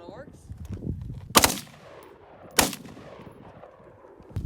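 A rifle fitted with a Delta Team Tactical FRT-15L3 trigger fires in semi-auto: two loud, sharp single gunshots about a second apart, with low background rumble and murmur between them.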